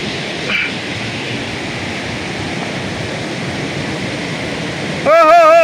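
Putudi Waterfall near Phulbani pours in a loud, continuous rush of water heard up close, with a short voice-like sound cutting in at the end.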